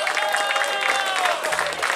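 A live jazz concert crowd in Predosa applauds a newly graduated jazz pianist, with brisk clapping and a few cheers mixed with voices and tonal sounds over two seconds.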